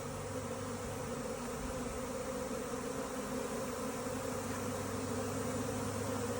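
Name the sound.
bee swarm arriving at old hives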